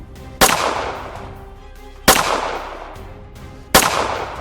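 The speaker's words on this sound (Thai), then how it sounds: "เสียงปืนดังขึ้นเป็นระยะระยะกลางป่าเปลี่ยว" Three sharp gunshots ring out in a lonely forest as a sound effect, spaced about one and a half seconds apart, each with a long decaying echo and no talk.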